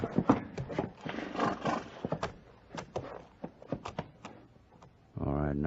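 Clip-clop hoof sound effects from an old-time radio western drama mix with dramatic voices, then a loud horse whinny rings out at the end.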